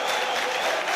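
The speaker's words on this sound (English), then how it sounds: "the St Mirren supporters not unhappy about that, cheering every tackle and every throw-in" St Mirren football supporters cheer and clap in a dense, steady wall of crowd noise, loud and continuous through a short burst at a Scottish league match against Celtic.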